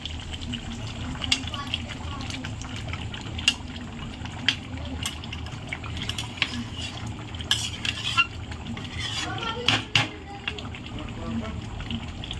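Chicken meat simmering in water in a pot, heard as a low bubbling bed with scattered clinks and scrapes of a spoon against the pot, while a voice talks over it.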